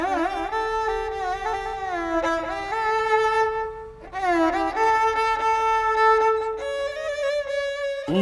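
A violin imitates a fly's buzzing with sustained, wavering bowed notes that slide in pitch, with a short break midway before the droning tone resumes, played close and alone.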